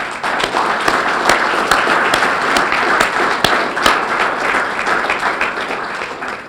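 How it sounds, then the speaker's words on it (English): Audience applause for staff, partners and board at an ocean cluster annual meeting in a harbor hotel function room: steady, dense clapping with sharp individual claps standing out, sustained throughout at a moderate level. "Please give a round of applause to our staff and partners and board."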